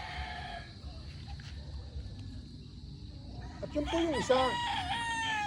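A Boston Roundhead broodstag kept as breeding material clucks among farmyard hens and then lets out a loud, close crow near the end, while someone speaks quietly in the background.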